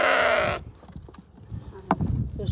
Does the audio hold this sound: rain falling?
no